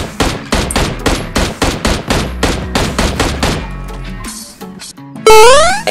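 Rapid bursts of PUBG Mobile gunfire, loud and close, in quick repeated volleys, then a brief lull and a bright electronic sweep at the end.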